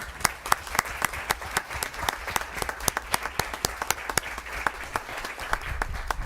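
An audience applauds staff and students of Lomita Park at a school district meeting, steady dense clapping from many hands, close and continuous, sustained without a break.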